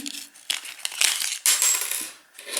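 Paper inserts from an iPhone 11 Pro box are handled up close, giving bright crinkling, rustling and small tapping sounds in quick irregular bursts, fairly loud with no talk.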